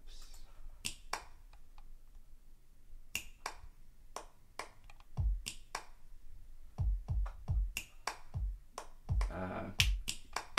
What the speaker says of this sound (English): Then these are live recorded claps.